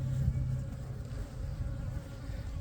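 Agitated honeybees buzz steadily around an open hive, a close, continuous drone with individual bees passing near.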